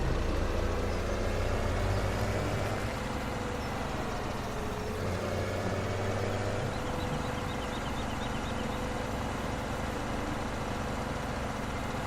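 A tractor engine drones steadily in the video game Farming Simulator 17, a continuous close mechanical rumble that shifts pitch as it drives and manoeuvres, with no voices over it.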